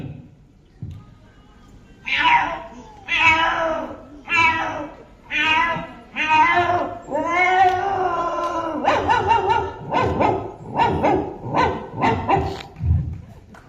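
Someone imitates a cat with drawn-out meows, then switches to a run of short, sharp dog barks, all close and loud.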